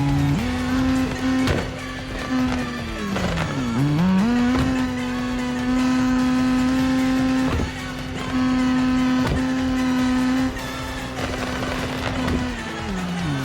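Cars drifting through the final corners of a drift event in the mobile game Car Parking Multiplayer 2, a steady loud engine drone with pitch dips and rises as the car slides, plus sharp clicks throughout, no talking.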